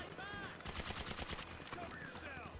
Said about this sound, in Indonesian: aku ditembakin juga ini